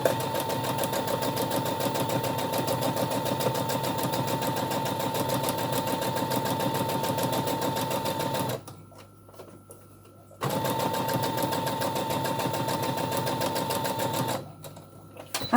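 A sewing machine stitches fabric for a small basket at a 2.5 stitch length, a steady rapid mechanical chatter that runs for several seconds, pauses briefly, then resumes before stopping again.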